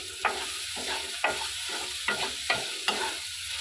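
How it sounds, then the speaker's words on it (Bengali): Banana flower being sautéed with sugar in a pan, with a steady sizzle broken by about five sharp scrapes of a spatula at irregular intervals; close and fairly quiet, with no talk. "তো চিনিটা দিয়ে বেশ কিছুক্ষণ কষিয়ে নেব"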